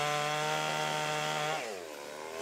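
A chainsaw carves a wooden jangseung totem face in a winter woodworking setting in Yecheon, a steady loud whining drone that drops in pitch as the blade bites into the wood, with no voices.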